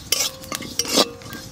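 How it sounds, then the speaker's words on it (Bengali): Cumin dry-roasting in an oil-free pan, a few short, close scrapes and rattles from stirring the seeds, with a faint sizzle and no one speaking. "তবে শুকনো খোলায় আমি জিরেটা ভেজে নিই।"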